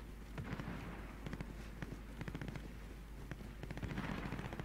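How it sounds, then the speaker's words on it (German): Faint, distant bursts of rapid gunfire crackle repeatedly in irregular clusters over a low steady hum, from the video game Call of Duty: Warzone. "Ich höre halt Schüsse"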